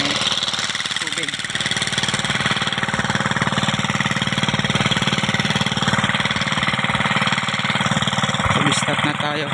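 A boat or machine engine runs loudly at close range with a fast, steady mechanical chug and knock, holding an even rhythm throughout, while a voice talks faintly under the noise.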